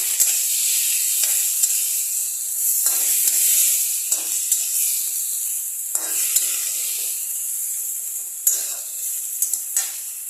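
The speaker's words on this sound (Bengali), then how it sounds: "আলু, বেগুন, পেঁয়াজ বাটা সব একসাথে এটাকে ভালো করে এখন আমি কষিয়ে দেবো।" Potato, eggplant and onion paste sautés in a pan over medium heat, giving a loud, continuous sizzling hiss broken by intermittent scraping and stirring strokes.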